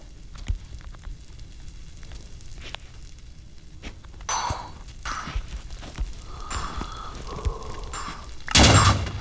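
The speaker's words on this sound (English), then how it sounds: "that's a big explosion." Explosions in the Minecraft video game sound as scattered booms and crackling bursts, with the largest and loudest blast near the end, alone without talk.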